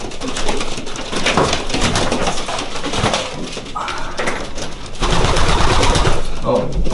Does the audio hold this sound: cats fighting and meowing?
no